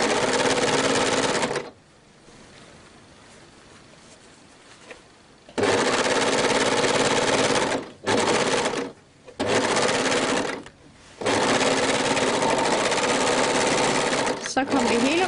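A home sewing machine stitches a sleeve onto a tunic shirt in loud, rapid whirring bursts broken by short pauses, with a person speaking in the quiet gaps between runs.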